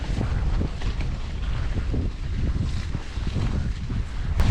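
Strong wind buffets the microphone on a muddy, clay-thick mountain bike trail ridden on an Orbea Oiz H30, a steady low roaring rumble with gusts, close and loud throughout.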